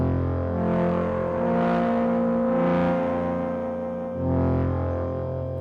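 Synthesizer tone run through a Pulsar Primavera drive unit set to tube saturation, with no reverb: a sustained, harmonically rich distorted chord that swells and fades in three broad waves, loud and alone.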